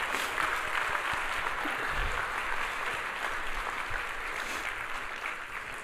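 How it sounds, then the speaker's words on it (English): An assembly audience applauds faculty award recipients in a sustained, even wash of clapping that lasts several seconds and fades slightly near the end, with no talking over it. "please applaud for those guys"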